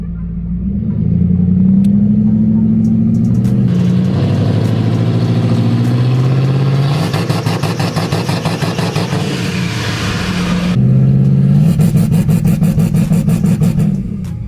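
A turbocharged Ford Thunderbird race car in gear running a launch control test, its engine rumbling loudly up close, with sustained revving held at a limiter-like stutter, a dip, then another held rev burst.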